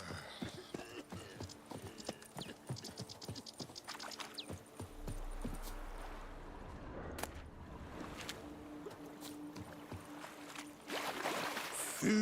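Horse hooves clip-clop at a riding pace in a video game, a steady near rhythm of light knocks that fades, then resumes, with faint background ambience and no talk.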